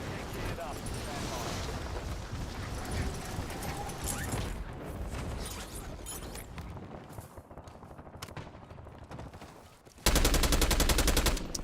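Gunfire from a heavy-recoil weapon in a video game, rapid shots crackling through the first part under game sounds and talk, followed by a loud, sustained burst of rapid fire near the end.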